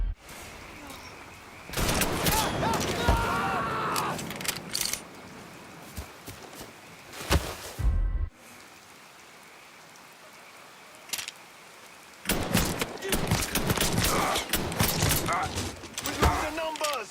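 Bursts of gunfire in the crime game Mafia 3, loud clusters of rapid shots separated by quieter gaps, with a steady hiss of rain-like ambience throughout.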